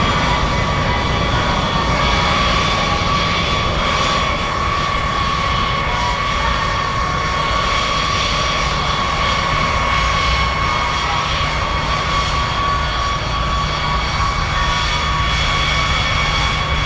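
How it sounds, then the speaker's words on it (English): Engines of a B-52 bomber run on the ground before taxiing, a loud, steady jet roar with a high whine held unchanged throughout, close by and with no voices. "we get ready to taxi the aircraft out to the hammerhead"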